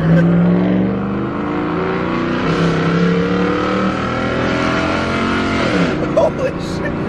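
A car with its resonator deleted, floored hard from a running start, its loud rasping engine climbing through revs in a sustained burst, with excited voices over it near the end.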